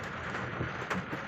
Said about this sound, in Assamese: এনে বৰষুণ দি আছে, তাতে আৰু আগত পানী আছে।